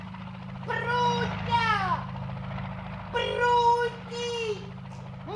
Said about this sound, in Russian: Вертолет унес Прутика в солнечное высокое небо.